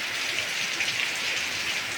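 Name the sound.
heavy rain falling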